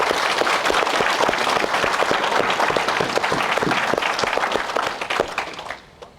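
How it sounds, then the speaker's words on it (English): An audience applauds at a 4th-degree Brazilian jiu-jitsu black belt ceremony. A dense burst of handclaps holds strong, then thins and dies away near the end. "So let's give him a round of applause again."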